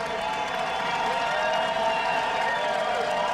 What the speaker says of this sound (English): Listen to this applause for Mickelson and Stewart.